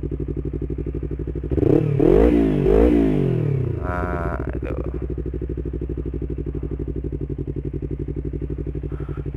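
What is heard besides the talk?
Yamaha R25 motorcycle exhaust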